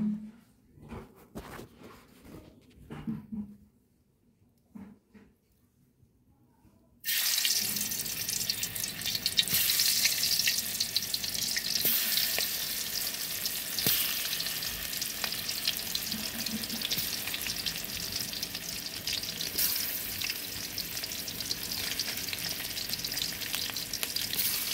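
Marinated fish fries in oil in a village kitchen, starting after a few seconds of quiet clatter with a sudden, strong, continuous sizzle and crackle that holds steady to the end, with no voices.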